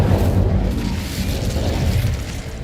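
The Incendio fire spell cast in Hogwarts Legacy, a loud whooshing burst of flame with a dense rumbling roar that holds steady then eases slightly at the end.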